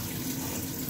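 Tap water runs steadily over peas being rinsed in a kitchen sink, a close, even splashing rush that lasts the whole short moment.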